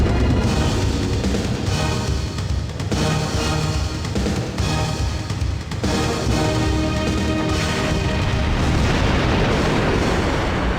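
Bombing explosions in the 1995 Command and Conquer game, a loud, continuous rumbling barrage of blasts and booms filling the whole stretch without pause.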